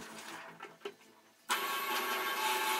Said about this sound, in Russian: двигатель не шумный, находиться рядом с работающим станком комфортно